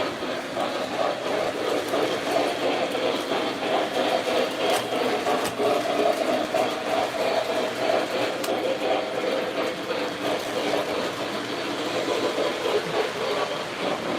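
A toy train whirs and clatters steadily along its track, a continuous mechanical rattle close by.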